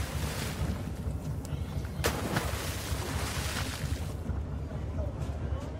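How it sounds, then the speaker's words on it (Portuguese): A ferry boat slowly nears a pier, a low rumbling engine and lapping water under a broad wash of noise, with a sharp knock partway through and the sound thinning near the end. "A barca aproxima-se, devagar."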